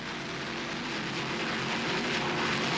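A racing offshore powerboat driven by two 550-horsepower Chevy Teague inboard engines produces a continuous heavy, droning roar, heard at a distance and building slightly over the few seconds.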